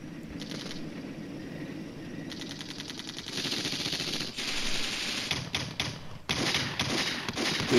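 Tank gunfire and battlefield effects from the Flashpoint Campaigns Red Storm war game, with dense rattling bursts of shots and thumps that build steadily louder over a continuous rumbling background.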